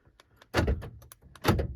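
Door lock actuators on a 20-year-old Honda fitted with a universal central locking kit fire in two quick bursts of sharp mechanical thunks and clicks, close and loud, separated by quieter small clicks.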